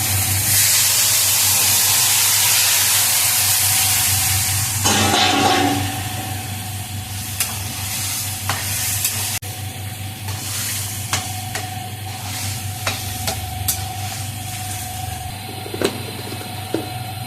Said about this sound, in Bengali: লাউটা ঢেলে দেবো।